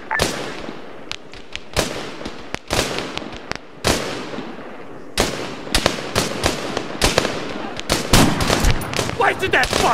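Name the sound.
gunfire at an enemy soldier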